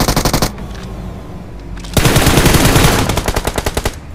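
Rapid automatic gunfire laying down cover fire in a tournament-final video game match, loud close bursts at the start and again in the second half, separated by a quieter gap.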